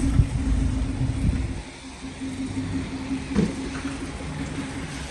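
A car with a 1.4 engine drives along a road, giving a steady low engine hum and road rumble from inside the cabin, with a brief louder swell partway through.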